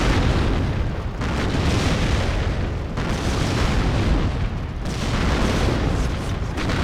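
Explosions and an airstrike in the real-time strategy video game Warno roar in dense, loud successive booms, heavy rumbling blasts overlapping almost without pause, no voices over them.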